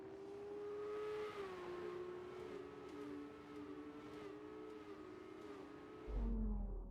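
Formula 2 race cars idle and rev on the starting grid in the F1 video game, a steady engine drone with wavering pitch that swells louder near the end.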